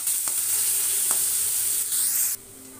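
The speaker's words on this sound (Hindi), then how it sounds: "लगातार इसको हम चलाते रहेंगे।" Onions frying in a pan under constant stirring give a steady, close hiss and sizzle with light scraping, and the sound drops off abruptly near the end.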